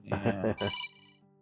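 A phone's electronic ringtone sounds during a casual live chat show, its steady tones starting under a man's speech and then continuing briefly on their own.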